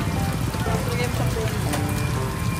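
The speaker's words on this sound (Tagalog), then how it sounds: "so lakas ang ulan" Heavy rain pours steadily in a dense, constant hiss and patter, with faint voices mixed underneath.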